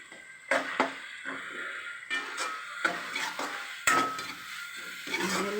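Tomatoes being sautéed in a pan for homemade fried rice, heard as repeated clanks and scrapes of a utensil against cookware in irregular bursts, close and moderately loud, with no talking.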